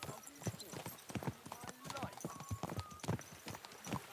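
Rhythmic hoof clip-clops of a trotting horse in Kingdom Come: Deliverance II, steady and close, with a faint voice and ambient game sounds underneath.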